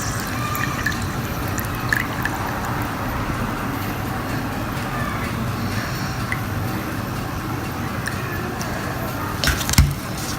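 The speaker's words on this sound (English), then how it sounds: "Then pour all of the contents in cup A into cup B." Liquid being poured from one cup into a second cup during a crystal-growing science experiment, a soft trickling and dripping over a steady background hum, with a couple of small clinks.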